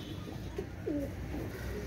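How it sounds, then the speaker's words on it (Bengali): Pakistani Rampuri pigeons in a loft give a single soft, low coo about midway through, faint against a steady background hiss with no talking. "অনেক সুন্দর কবুতর পাকিস্তানি রামপুরি কবুতর ভাই"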